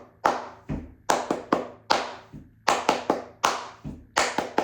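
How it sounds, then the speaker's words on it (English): Loud, hard flamenco palmas in the sordas style, muffled cupped-hand claps struck in an uneven rhythmic pattern of about a dozen sharp hits, close and alone. "I'd have to really keep slamming my hands in together really, really hard to get louder with sordas"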